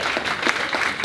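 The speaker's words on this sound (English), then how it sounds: "Clap, go on." A crowd at a charity event applauds with steady, dense clapping that holds at an even loudness from start to finish.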